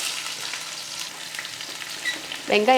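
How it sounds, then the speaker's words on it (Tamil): Mustard seeds, urad dal and a handful of shallots fry in hot oil for a tempering, giving a steady close sizzle with a brief louder burst of crackling near the end, no voices. "எண்ணெய் காஞ்சதுமே கடுகு உளுந்து போட்டு கூடவே ஒரு கையளவுக்கு சின்ன வெங்காயம்"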